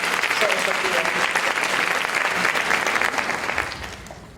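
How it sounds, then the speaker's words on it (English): Audience applause at an Alpha Kappa Alpha Sorority event, steady dense clapping from a large crowd that fades out near the end, with faint background voices. "Let's give Sora Sophia another round of applause."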